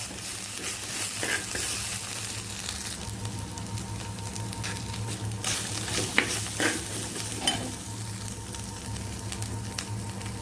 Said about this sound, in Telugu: ఒక చెంచాడు మినపప్పు ఒక చెంచాడు పసుపు ఒక చెంచా అల్లం వెల్లిపాయ ఇలా పచ్చివాసన పోయేదా గోలించుకోవాలి